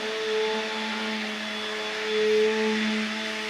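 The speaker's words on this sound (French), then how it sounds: "Avec le batteur, on va enlever tout ce qui est grumeaux" An electric hand mixer beats lumpy crêpe batter in a home kitchen. It makes a steady, fairly quiet motor whine with a faint rising and falling pitch and no speech.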